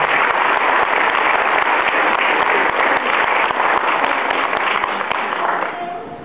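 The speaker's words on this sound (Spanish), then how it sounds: "Fuerte te aplauso para el Señor." Church congregation at a Nazarene service clapping loudly and continuously, a dense close patter that begins to fade near the end.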